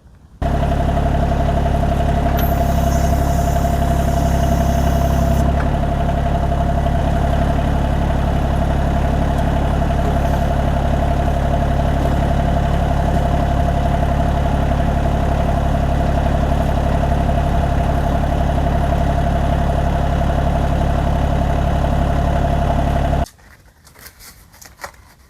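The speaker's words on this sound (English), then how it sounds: "let's get the tractor closer and we'll use the backhoe," A tractor with a backhoe idles nearby, a loud, steady engine drone with a constant low rumble that runs unbroken for over twenty seconds before cutting off.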